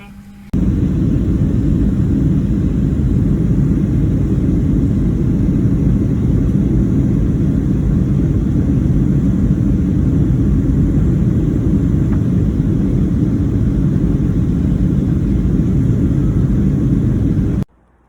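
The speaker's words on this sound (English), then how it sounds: "I got about 5 hours on this flight" Airplane cabin rumble during a flight, a constant, dense low-pitched roar with hiss that starts abruptly, holds evenly for most of the clip, then cuts off.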